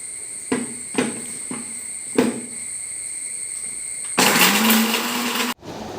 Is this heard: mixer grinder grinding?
yes